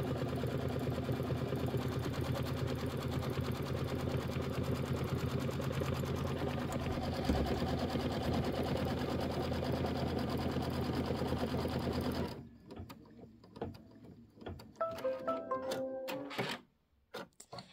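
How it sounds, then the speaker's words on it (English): Embroidery machine stitching a quilting design on a Kimberbell nativity bench pillow block, a rapid, steady mechanical needle rhythm close up that stops abruptly, followed by scattered clicks and handling noises. "And it's 11 minutes of stitching. So just go ahead and hit start."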